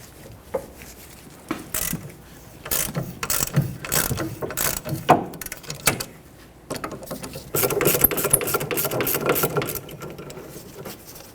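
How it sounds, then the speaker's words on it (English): Ratchet on a 14mm socket clicking in quick bursts while loosening the caliper bracket bolts on the rear brakes of a 2006-2010 Hyundai Sonata, close and crisp, with short pauses and tool handling between runs. "Use a 14mm socket and remove the 2 bolts holding the caliper bracket onto the knuckle."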